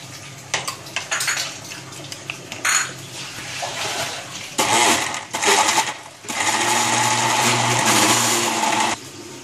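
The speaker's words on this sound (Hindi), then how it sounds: "तो ये क्रीम को हमने ग्राइंड कर लिया है" An electric blender grinds whipped cream with sugar for a mango dessert, whirring in loud bursts separated by brief pauses, with clinks of kitchenware between runs.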